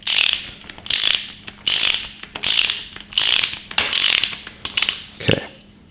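A large torque wrench ratchets loudly in repeated bursts of rapid clicking, about seven strokes with brief pauses, close up during assembly of a 5.7L Hemi V8 engine, ending with a single metallic clunk.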